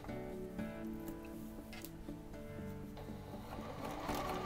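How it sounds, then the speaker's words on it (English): Sewing machine top stitching the edges of a fabric pencil case, a faint, close, continuous rapid ticking hum with no talk over it. "we're just top stitching them together"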